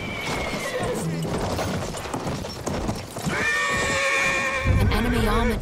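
Loud neighs and whinnies from cavalry horses in the First World War shooter Battlefield 1, with clip-clopping hooves underneath and a voice briefly speaking amid dense combat noise.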